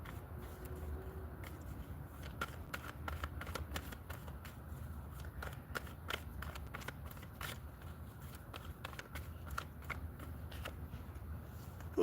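Playing cards are shuffled close up in a quiet room, a run of soft riffling flicks and taps repeating in quick irregular bursts, low in level, with no talk.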